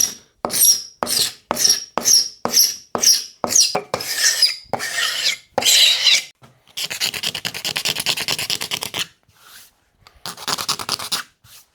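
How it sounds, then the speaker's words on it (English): A glue scraper rasps across a custom SG-style guitar body under construction, first in a quick series of short, sharp strokes, then in longer, grinding passes, close and loud. "one of these is your friend, gluey scraper"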